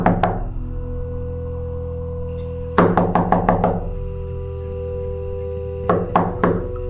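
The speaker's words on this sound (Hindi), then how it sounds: "उन लोग ने जोर जोर से मेरा दरवाजा खटखटाना शुरू कर दिया।" Loud knocking on a door for a horror story: a sharp opening knock, then a rapid burst of about six hard raps, a pause, and another quick run of four, ringing over a low sustained drone.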